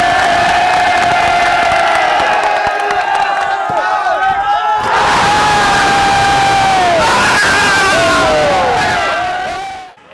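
Loud crowd cheering and whooping for basketball dunks at a park court, with shouts and screams rising and falling, a fresh surge of yelling midway, then fading at the end.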